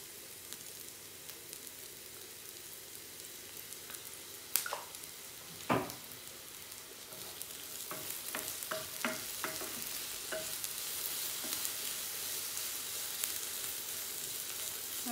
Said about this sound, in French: Un peu de miel dessus. On les caraméliser.